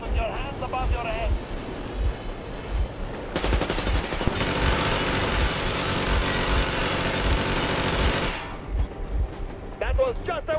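Sustained burst of machine gun warning fire in the video game Metro Exodus, loud and dense for about five seconds, with talk before and after it.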